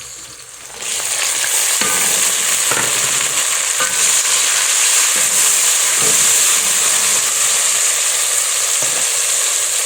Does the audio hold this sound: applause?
no